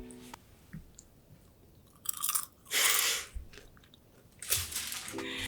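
Coconut caramel popcorn crunching between the teeth, a few close, loud bursts of crisp chewing separated by short pauses, with no talking.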